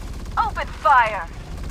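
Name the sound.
gunfire in the video game Farlight 84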